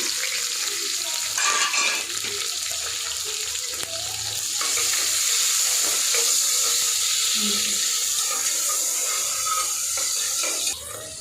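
Green chilies and onions sizzle in hot oil in a pan, a loud, steady crackling fry that continues without a break, with only faint bits of voice underneath.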